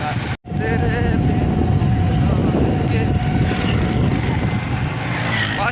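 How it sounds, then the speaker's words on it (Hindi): Steady roadside traffic rumble near a petrol pump, with cars and trucks passing continuously at close range and a brief dropout near the start; engine drone dominates throughout. "काफ़ी सारे ट्रैफिक की आवाज़ है"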